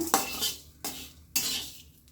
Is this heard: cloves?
yes